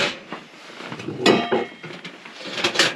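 Metal stove pipes for a hot-tent wood stove clink and clatter as they are handled and stowed at a -60F winter camp, with a few sharp metallic knocks and scrapes up close and no talking.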